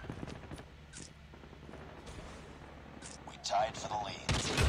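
Gunfire from a weapon in Call of Duty Mobile, bursts of shots rising near the end amid continuous game noise, with a voice talking over it.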